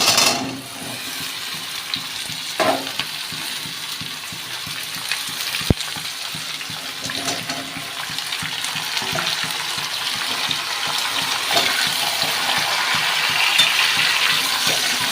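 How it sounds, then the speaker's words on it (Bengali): Lightly fried potatoes with mixed vegetables for an Ekadashi curry sizzle steadily in a pan, a continuous hissing fry with occasional stirring scrapes and a sharp clink partway through, no voices. "আলুটাকে একটু ভেজে নিয়েছি এর মধ্যে সমস্ত সবজিগুলো দিয়ে দেবো"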